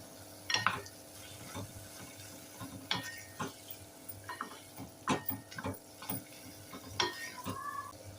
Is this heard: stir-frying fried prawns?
yes